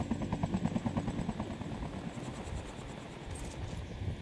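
A helicopter in the mobile game Call of Duty Mobile thumps with rapid, pulsing rotor beats that fade into a steady whooshing drone, with no talking over it.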